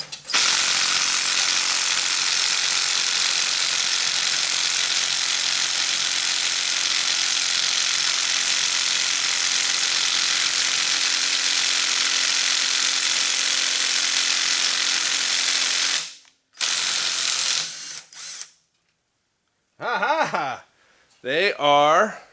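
Hand ratchet working 11/16 bolts loose on a Dana 44 axle during a rebuild and re-gear, a loud, steady buzzing run of ratchet clicks lasting about sixteen seconds, then brief stops and short bursts with a voice speaking near the end.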